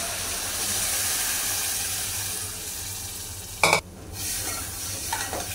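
Cooked dal goes into hot tempering of red chilli, asafoetida and salt. A steady close sizzle runs throughout, then a sudden sharp hissing burst near the end as the liquid hits the hot fat, settling back to a softer sizzle.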